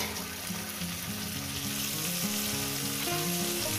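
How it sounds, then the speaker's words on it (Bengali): Okra and vegetables fry in a pan for Bengali posto, with a steady close crackling sizzle throughout and no talk. "আরো আমি 4-5 মিনিট ধরে সবজিটাকে আমি ভাজবো।"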